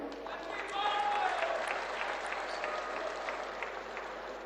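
A crowd at a Punjab event launching Aam Aadmi clinics applauds steadily at moderate volume, with a faint tonal whistle and murmuring voices mixed in over the clapping.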